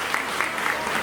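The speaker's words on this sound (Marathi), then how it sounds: "वतीनं टाळ्या वाजवल्या ताईंसाठी." An audience at a village Home Minister event in Lakhmapur, Satana claps in a short, dense burst of applause, fairly close and continuous, with a voice faintly mixed in.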